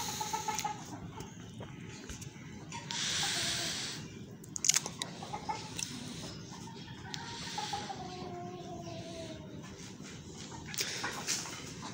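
A rooster and hens cluck and peck on a small backyard hen farm in Pakistan, with scattered faint calls, a few sharp taps and rustles, and a steady low background.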